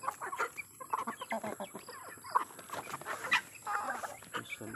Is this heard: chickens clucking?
yes